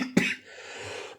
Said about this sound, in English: It annoys you so much that you're causing you to cough up a lung